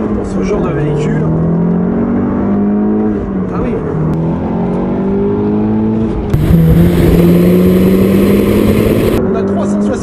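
A 2014 Audi S1 hatchback driven on narrow, winding Corsican roads, its engine loud and close as it revs up through the gears, with rising and falling pitch and brief drops between shifts, and a voice talking over it.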